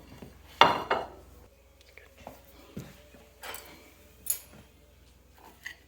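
Cutlery clinking and scraping on a plate while cutting into air-fried tilapia fillets, a few sharp metallic taps and softer scrapes, close and fairly quiet, with brief pauses between them.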